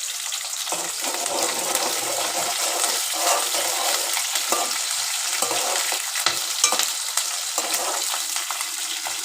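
Curry leaves sizzling in hot oil, a close, continuous crackling fry with bright spitting pops scattered through it, no talking.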